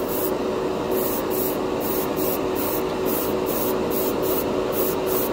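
Aerosol can of Dspiae clear candy paint hissing steadily onto a plastic spoon, a close, continuous spray with faint pulsing over its length, no voices.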